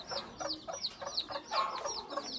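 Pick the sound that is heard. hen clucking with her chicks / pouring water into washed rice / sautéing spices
hen clucking with her chicks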